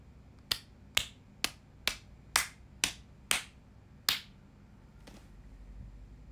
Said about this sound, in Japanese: 皆さんにも拍手。